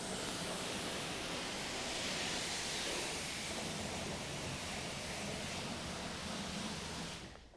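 A pressure-washer stream rinses a cheap car's paint during detailing, a broad continuous spraying hiss heard close and steady until it cuts off near the end.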